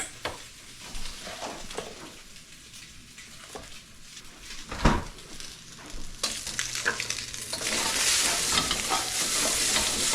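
Day-old pasta stir-fries in a pan with butter and olive oil, giving a steady close sizzle with scraping stirs and a few knocks of the utensil, and the frying grows louder and hissier toward the end.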